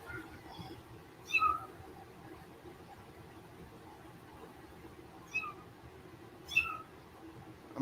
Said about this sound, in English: I'm pretty sure y'all hear my kitty in the background too.